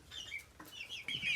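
Young Cornish Cross meat chickens, about two weeks old, cluck and chirp softly in a brooder, a faint scatter of short high peeps and calls with no talking.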